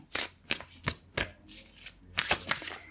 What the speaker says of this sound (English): I oftentimes will go ahead and side shuffle anyway